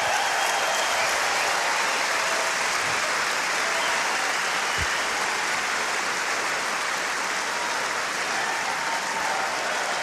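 Sustained applause from a large crowd at Wimbledon for Emma Raducanu, a dense and steady wash of clapping that continues evenly throughout.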